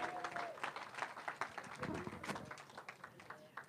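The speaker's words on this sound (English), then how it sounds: "give the Lord an, a clap offering, applause, a praise" Applause offered as praise during a church service, a brief burst of many hands clapping with a slightly irregular, steady rhythm at moderate volume and no talking over it.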